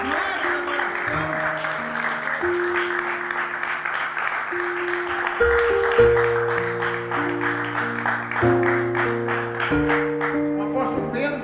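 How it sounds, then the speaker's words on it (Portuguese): A church congregation applauds steadily and fairly loudly, with sustained organ or keyboard chords holding beneath the clapping throughout. "Aplaude ele aí."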